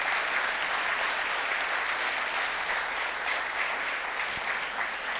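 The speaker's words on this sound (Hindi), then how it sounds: "एक बार तालियां बजाएंगे, इनका अभिनंदन करेंगे" A crowd at an Arya Pragati scholarship distribution ceremony breaks into dense, continuous applause that holds at an even, loud level throughout.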